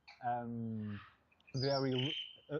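A parrot at Lisbon Zoo gives two loud, drawn-out harmonic calls, close and clear, each lasting about a second, followed by a short squawk at the end.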